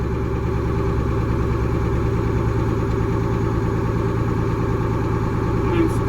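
A truck engine, tested during an air brake check on a CDL Class A pre-trip inspection, is held at raised revs around 1200 RPM. It makes a loud, steady, close drone with a constant rhythmic low throb for the whole clip.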